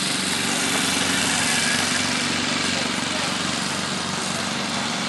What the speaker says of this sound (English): They're mowing the lawns.